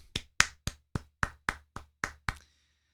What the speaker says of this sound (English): let's give a round of applause for Robot for appearing on the show.